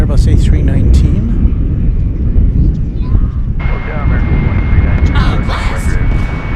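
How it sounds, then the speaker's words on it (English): A United Airlines Airbus A319 at DFW Airport rumbles with a loud, close jet roar, while a voice talks over it and a high steady tone appears partway through. "There's United Flight 1603. It's an Airbus A319."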